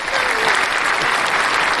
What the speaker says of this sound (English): Round of applause for that, guys.